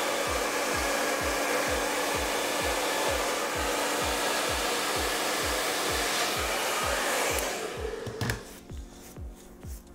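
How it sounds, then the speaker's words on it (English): A handheld hair dryer blows steadily and loudly while blow-drying hair for a sleek anti-frizz blowout, with a rhythmic pulsing hum as it moves, then cuts off near the end, leaving quieter handling sounds. "I prefer just being persistent with the blow dry and spending a little bit more time here"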